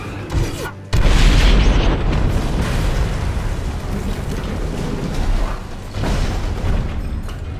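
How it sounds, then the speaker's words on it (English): An RPG blast destroys the Batmobile Tumbler during a chase in The Dark Knight, a loud sudden boom that rolls into a sustained roaring rumble of fire and debris, dense and heavy for several seconds. "once during a chase when it's destroyed by an RPG launched by the Joker in an attempt to kill Harvey Dent"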